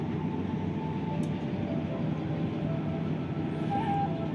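Steady low rumble and rolling drone inside the Banyubiru executive-class train running on the rail line between Semarang and Solo, continuous and even throughout with faint higher squeaks, no talking.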